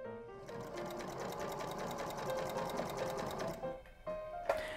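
A sewing machine stitches an apron's fabric toward the next corner in a steady, fast mechanical whir that runs for several seconds, then stops, followed by a couple of brief clicks as the hand wheel is turned.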